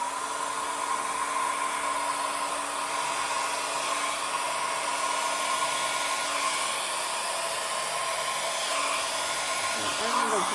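A hair dryer blows air across the top of an acrylic paint pour, a steady close whooshing roar that holds constant throughout with no talking.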